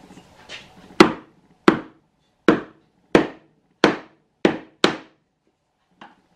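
Wooden dowels are hammered into drilled holes in a woodworking shop, seven sharp, close wooden knocks at a steady, slightly uneven rhythm, with one faint final tap after a pause and no talking.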